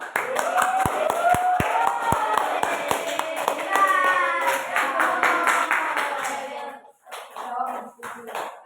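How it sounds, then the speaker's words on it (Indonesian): A classroom of students claps, with scattered sharp hand claps at first building into steady applause that fades near the end, while children's voices chatter underneath. "Beri aplaus untuk teman kita yang sudah maju."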